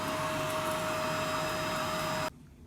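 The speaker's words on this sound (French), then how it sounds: "Donc là, je passe l'aspirateur" A vacuum cleaner runs continuously during kitchen housework, a steady loud whine with a constant high tone that cuts off abruptly near the end.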